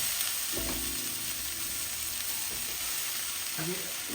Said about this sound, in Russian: мы продолжаем мешать рис с овощами